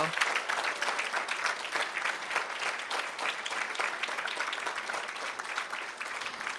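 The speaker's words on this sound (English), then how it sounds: "Let's give them a round of applause." An audience at a school board meeting claps steadily for water polo players, a dense, even patter of many hands lasting throughout at moderate volume.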